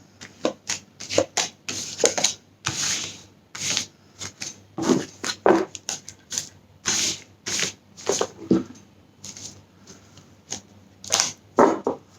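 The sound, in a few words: shuffling cards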